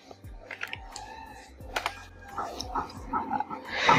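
Typing on a computer keyboard, with short clusters of close, crisp key clicks in an irregular rhythm, mixed with other small clattering noises and a brief faint whimpering tone.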